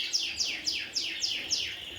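Young lesser redpolls, mealy redpolls and goldfinches chirp in an indoor birdroom, six evenly spaced, bright downward-sweeping calls in a steady rhythm, close and clear with no talk.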